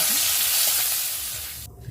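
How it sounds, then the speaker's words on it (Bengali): Fish fries in hot oil in a pan, giving a loud, continuous close-up sizzle and hiss that fades slightly toward the end. "মাছ ভাজার তেলটা কিছুটা দিয়ে দিলাম, দিয়ে মাছটা শুকনো শুকনো করে"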